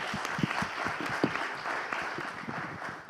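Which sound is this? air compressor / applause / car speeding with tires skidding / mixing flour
applause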